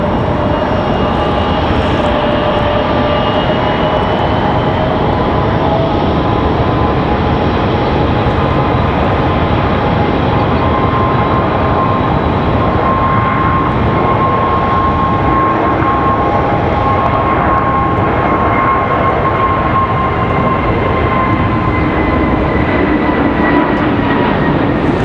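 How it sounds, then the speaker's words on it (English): A Frontier Airlines jet departs Raleigh-Durham airport with a loud, sustained engine roar and whine. It holds steady and powerful for the whole stretch as the aircraft runs up and climbs away, with no one speaking. "This one right here headed off to Miami, Frontier 3321. Gonna be a nice quick departure here."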